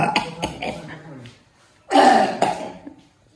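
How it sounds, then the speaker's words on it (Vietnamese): An elderly man coughs, a rough, throaty burst close to the microphone, following some nearby conversation in a rural mountain home. "Hôm nay ông bị ho hay sao ấy? Hôm trước lên cũng thấy ông ho."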